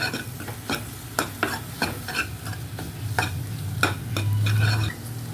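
Chaat masala with onion, tomato and green chili sautéed in a pan, heard as a soft steady sizzle under repeated sharp spatula scrapes and taps against the metal, close up.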